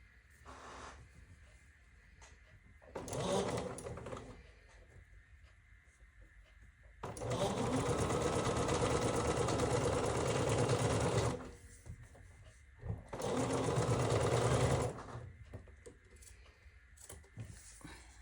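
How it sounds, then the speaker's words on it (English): A sewing machine stitches quilt fabric pieces for a strawberry blossom block in several separate bursts, a short run followed by two longer steady whirring stretches, close and clear with quiet pauses between. "I'm going to go ahead and take my F and sew it to this side"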